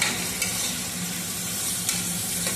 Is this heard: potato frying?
yes